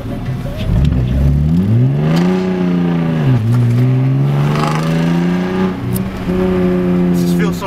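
BMW E46 325ci engine accelerating, loud rising revs that dip briefly at a gear change and climb again, heard from inside the car with people talking over it.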